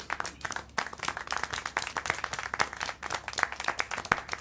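Steady hand clapping from a small group in a video game (Syberia: The World Before), crisp sharp claps in a continuous patter, fairly close, with no talking.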